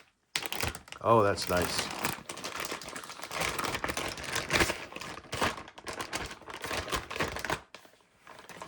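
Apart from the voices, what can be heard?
opening the sealed packaging of a toner cartridge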